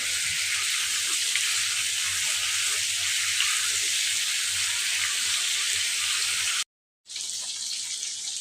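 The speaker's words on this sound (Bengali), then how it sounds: "আলুটা আমি ভেজে নেবেন" Potatoes frying in a pan give a loud, continuous bright hiss that holds steady near the mic, cuts out briefly toward the end, then resumes at the same level, with no voices.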